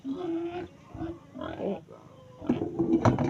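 Several pigs oink and grunt close by, in short bursts that grow louder and busier toward the end, with faint human voices mixed in.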